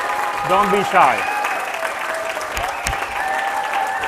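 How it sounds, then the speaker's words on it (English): An audience at a TEDx youth event applauds, the clapping loud and sustained, with voices speaking over it. "give a big applause to Sue Campbell"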